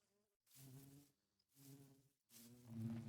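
Bees in a modded Minecraft world, the All the Mods 8 pack, give three separate buzzing bursts with short silent gaps between them, each a pitched droning hum that is fairly close and heard alone.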